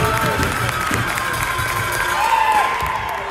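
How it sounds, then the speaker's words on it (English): Wichita crowd cheering at a youth hockey game, a broad, sustained arena roar with scattered shouts and a whistle-like tone partway through, loud and continuous. "Obviously, you'll hear quite the noise from the Wichita crowd"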